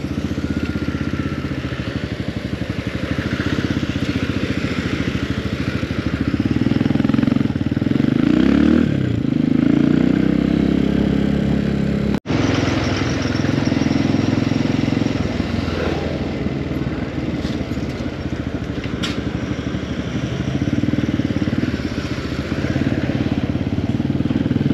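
Motorcycle riding a bumpy dirt track near Antsirabe, Madagascar, its engine droning loud and steady throughout, with rattles and clatter as the bike jolts over holes.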